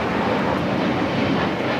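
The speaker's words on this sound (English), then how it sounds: "This is Spirit Airlines 675 taking off to Las Vegas on the A321neo" A Spirit Airlines A321neo takes off at LAX, a loud steady jet engine roar that fills the air evenly without letup.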